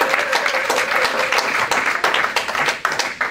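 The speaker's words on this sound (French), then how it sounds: "est-ce qu'on peut acclamer Dieu?" A church congregation applauding and acclaiming God, dense loud clapping from many hands throughout, with voices cheering in the mix.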